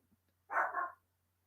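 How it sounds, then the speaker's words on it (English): A dog barks once or twice in a short, muffled burst at a moderate distance, against a quiet background with a low steady hum. "So I think the dog's barking at somebody."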